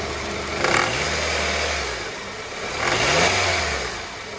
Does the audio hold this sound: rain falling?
no